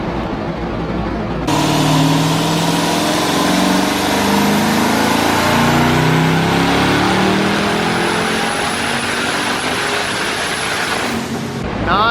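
A twin-turbo Chevrolet Camaro ZL1 with a newly built 10-speed automatic roars at full throttle on a dyno. The loud, sustained engine note climbs steadily with a rising whine before cutting off abruptly.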